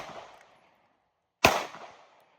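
Canik METE MC9 LS pistol firing: a single sharp, close gunshot with a short ringing tail, after a faint fading noise and a moment of silence.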